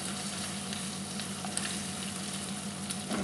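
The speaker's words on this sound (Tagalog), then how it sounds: "Saglit lang naman igisa ang mushroom" Mushrooms sauté in a pan for a fettuccine Alfredo, giving a steady, close sizzle and crackle throughout with occasional faint stirring clicks and no talking.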